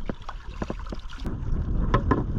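Loud, blustery wind at sea buffeting the microphone with water sloshing against a small fishing boat, rough and continuous.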